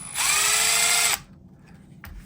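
A power driver spins out a screw on a 1/18-scale TRX4M RC truck in one close, high whirring burst lasting about a second, then stops abruptly. Quiet follows, with a faint click near the end.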